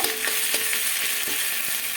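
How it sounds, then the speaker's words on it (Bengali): Garlic paste goes into onions already browned in hot oil, sizzling steadily with a few light stirring scrapes of a spoon against the pan. "দিয়ে দেবো রসুন বাটা একটু হালকা নাড়িয়ে নেব"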